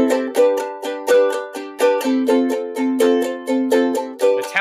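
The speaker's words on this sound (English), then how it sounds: "If you're a beginner, you can just down strum the chords on it. So it would sound like this." An acoustic guitar plays chords with simple even down strums, each stroke ringing bright and close, in a steady rhythm with chord changes and no voice over it.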